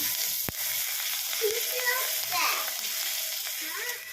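Garlic and ginger fry in a pan for chicken stew, a steady close sizzle with a few sharp clinks and a voice chattering in the background.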